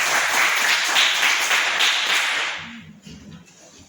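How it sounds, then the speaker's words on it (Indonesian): A classroom of students applauds together, a dense burst of hand clapping that holds for a couple of seconds and then fades out, followed by a brief low voice. "Kita berikan tepuk tangan."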